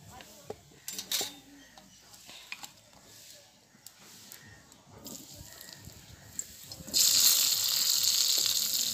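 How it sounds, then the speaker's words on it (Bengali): Potatoes frying in oil in a home kitchen: utensils clink and scrape for several seconds, then a loud, steady sizzle bursts up near the end as the potatoes hit the hot oil. "এবার আমি এই তেলে আলুগুলো ভেজে নেব"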